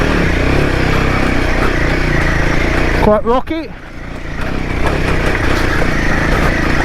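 Royal Enfield Himalayan 450 motorcycle engine droning steadily as it climbs a rocky UK trail, loud and close throughout, with someone briefly speaking over it midway.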